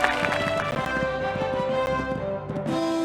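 A horse gallops across an eventing cross-country course, its rapid hoofbeats thudding steadily under a constant hum of crowd and outdoor noise.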